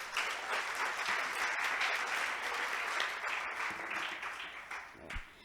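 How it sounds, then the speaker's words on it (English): Audience applause after a youth-led panel discussion, a sustained burst of clapping from a crowd that fades slightly toward the end, heard fairly faint and without speech. "Another round of applause for Dennis, please."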